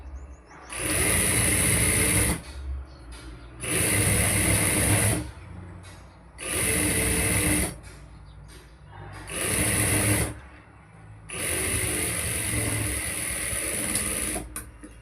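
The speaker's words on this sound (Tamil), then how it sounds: "இப்போ இந்த கீழே இப்படி மடித்து இப்போ இதை வந்து நம்ம ஸ்டிச் பண்ண போகிறோம்." A sewing machine stitches a folded hem on a plain blouse in five steady bursts of a couple of seconds each, with short quiet pauses between them. The motor whirs loud and close.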